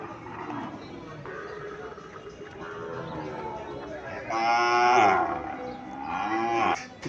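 Sahiwal bull calves at a busy cattle market in Comilla, one calf letting out a loud drawn-out moo mid-way amid crowd chatter and nearby voices.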